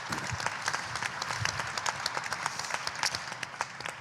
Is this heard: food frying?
no